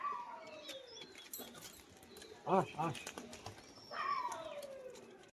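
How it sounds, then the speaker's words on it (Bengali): A male Rajshahi pigeon coos a couple of times in quick low bursts, with faint rustling and a soft voice around it. "রাজশাহী পায়রাটার বাজি দেখাবো"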